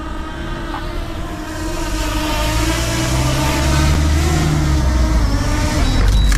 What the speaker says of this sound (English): Look, I'm waiting for the cars to pass.